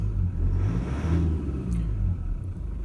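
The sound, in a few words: car engine flat spotting, almost stalling while backing out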